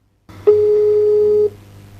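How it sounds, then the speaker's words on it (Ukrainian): A single steady electronic telephone busy tone sounds for about a second over a faint low hum, then cuts off. "номер абонента, якому ви телефонуєте, зайнятий або абонент відхилив ваш виклик"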